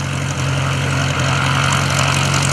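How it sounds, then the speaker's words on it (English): An RV-6 light propeller plane rolls through aerobatics above a lakeside airshow, its engine a loud, steady droning hum that holds constant for a couple of seconds with no voices over it. "Speedy up there rolling that RV6 around, having a good time."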